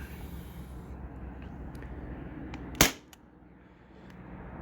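A Sabre 68 home defense launcher fires a 3.6 gram nylon ball, one sharp, loud pop standing out over a steady background hum, followed by quieter ambience.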